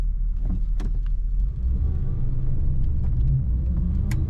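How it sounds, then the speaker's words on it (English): A 1953 Ford Customline four-door sedan with a three-on-the-tree manual transmission idles with a steady, low, smooth engine rumble, with a few faint clicks and light mechanical taps over the hum. "Very smooth running car, very quiet, stock sounding car."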